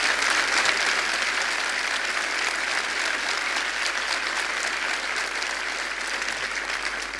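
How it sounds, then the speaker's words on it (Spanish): A church congregation claps loudly and continuously, a dense, even wash of applause filling the room with no speech on top. "Dale fuertes aplausos al Señor"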